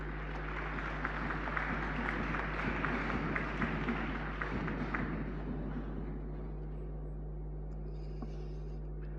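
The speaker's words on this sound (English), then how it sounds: "Sous vos applaudissements, ladies and gentlemen." Audience applause at a conference, a steady dense wash of many hands clapping in a hall that holds for several seconds and then thins out and fades to room quiet.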